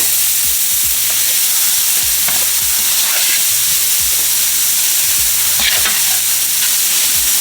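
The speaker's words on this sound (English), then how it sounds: "You just add a little bit of butter and then add your onions." Onions frying in a little melted butter in a pan, with a loud continuous sizzle and hiss and occasional soft stirring knocks underneath.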